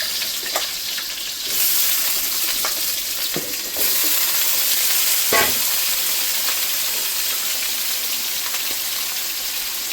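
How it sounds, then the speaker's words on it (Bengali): Potato pieces fry in hot oil in a home Bengali kitchen: a loud, continuous close sizzle with occasional scraping stirs and bursts of spatter, no talking. "আলুগুলো ভেজে নেব।"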